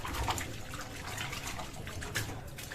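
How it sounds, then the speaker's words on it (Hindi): Steady running water splashes and trickles as stinging nettle greens are rinsed under a tap, continuous and fairly close with no voices. "तो ये फिर से मैंने इसको पानी से धो लिया है।"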